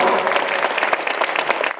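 A church congregation applauds loudly and steadily through a Sunday worship service, a full, continuous clatter of many hands.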